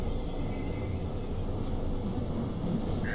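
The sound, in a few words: RhB ABe 8/12 Allegra train running in Train Simulator 2018 video game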